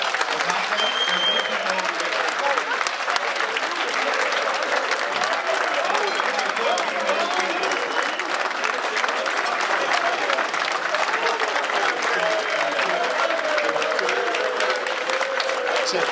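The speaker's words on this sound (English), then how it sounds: "Please, everyone, give these brothers a round of applause." A crowd at a Kappa Alpha Psi fraternity chapter's 40th anniversary celebration gives sustained applause for newly honored brothers, a continuous wash of clapping mixed with cheers and crowd voices lasting throughout.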